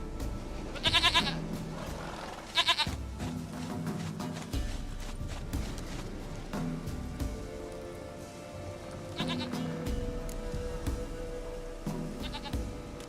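A goat bleats several times in the video game Witcher 3, with short, nasal cries spaced across a steady bed of game ambience and hoof-like clopping.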